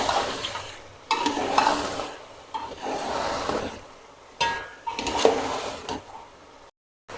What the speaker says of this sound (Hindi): अच्छी तरह भुनाई करेंगे।